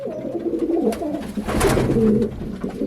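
A pigeon coos close by in low, soft, rolling calls that repeat over a few seconds, with faint background noise.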